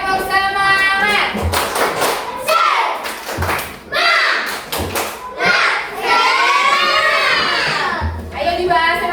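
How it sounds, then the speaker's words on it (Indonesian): Schoolchildren in a classroom perform a tepuk semangat chant, loud voices shouting in unison with rhythmic hand claps and thumps in a steady beat, all close and energetic. "untuk supaya anak itu lebih semangat, kita tepuk semangat"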